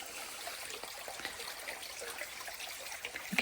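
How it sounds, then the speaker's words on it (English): A low mountain creek, shallow from little rain, trickles and burbles over rocks in a soft, continuous wash, fairly faint with small splashy flickers throughout. "You can tell the creek's down because we've not had much rain."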